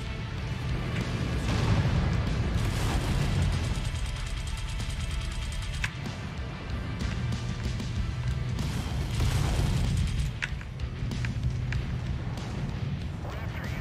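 Incoming missile explosions in the MechWarrior 5 video game, a dense run of heavy booms and crashing impacts rolling together, loud and continuous, with sharper blasts near the middle and late stretch.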